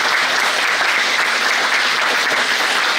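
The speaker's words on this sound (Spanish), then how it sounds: "un aplauso para el doctor Refugio Espinosa." Audience applause for a lecturer after a university talk at Chapingo, a loud, dense, even burst of clapping from a full room lasting several seconds without pause.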